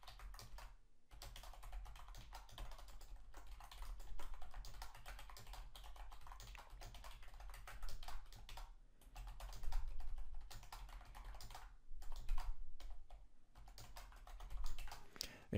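Fingers type on a computer keyboard, a steady patter of quiet key clicks with brief pauses, fairly close and alone.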